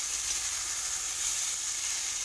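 Cauliflower frying in oil gives a steady, dense hiss of sizzling, close and fairly loud, unbroken and with no voices.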